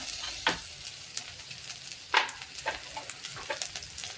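Onion, grated coconut, garlic and green chilies sautéing in a pan for a traditional green-chili brinjal dish, a steady soft sizzle broken by a few sharper stirring bursts, close and fairly quiet with no talking.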